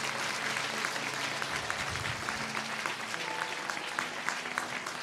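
A church congregation claps loudly at an evening service, a dense, steady wash of many hands filling the whole stretch with no voices on top.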